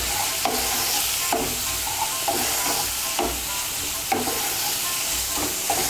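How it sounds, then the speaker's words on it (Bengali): Chopped tomato frying in a pan with onion, garlic, ginger and spices for mixed dal tarka: a continuous loud sizzle and hiss, broken by regular scraping stirs every second or so, with no talking. "এর মধ্যে আমি টমেটো কুচিটা দিয়ে দেব।"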